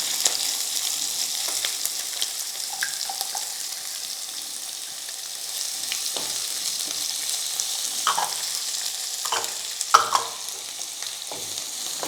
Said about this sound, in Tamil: இந்த வெங்காயம் வதங்கிறதுக்கு நான் கொஞ்சோண்டு உப்பு போட்டுக்கிறேன்.